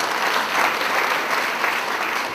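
Steady, dense applause from a church congregation clapping in thanks at a Christian prayer gathering, filling the space evenly and loudly with no voices over it.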